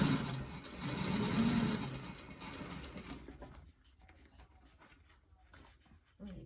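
A sewing machine stitches through many thick layers of a Nora doctor bag, giving a continuous close whirring run for about three seconds that then drops to quieter mechanical ticks and handling.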